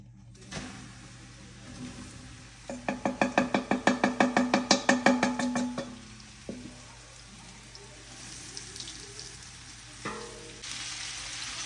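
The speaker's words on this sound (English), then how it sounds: "I'm gonna lightly brown this meat." Flour-dredged meat browning in a frying pan for green chili, with a close burst of rhythmic scraping strokes in the middle and softer sizzling around it.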